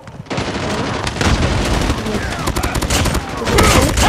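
Loud, dense automatic gunfire from the video game Call of Duty, rapid continuous bursts of shots filling the whole stretch.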